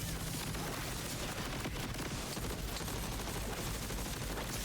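Gunfire from a gun in the Borderlands video game, built for a fire-rate loadout: dense, continuous rapid shooting blending into a harsh wash of noise, fairly faint and steady.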